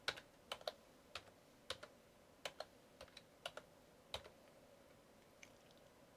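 Light keystrokes on a computer keyboard while entering a PIC16F1829 chip name, sparse irregular clicks at close range in a quiet room.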